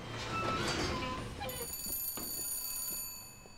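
A telephone rings in the Bioshock Infinite video game, a bright, sustained bell tone that starts partway through over a low, murmuring background and holds steadily until near the end.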